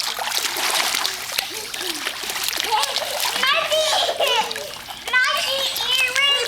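Children splashing and playing in water at a swimming spot, steady splashes and sloshing throughout with kids' voices and chatter mixed in close by.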